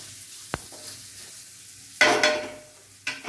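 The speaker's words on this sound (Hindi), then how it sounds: "अब 5 मिनट के लिए हमें ये चला इसे अच्छे से भूनना होगा" Kheer ingredients being roasted and stirred in a pan, a low quiet simmer broken by a sharp knock and then two loud bursts of scraping and sizzling as the spoon moves.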